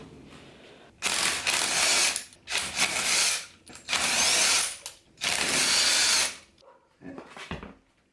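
Ratchet bursts come from work removing a brake caliper on a Mazda Miata drift car, with several loud, close, rapid clicking runs separated by short pauses, the last one shorter and softer.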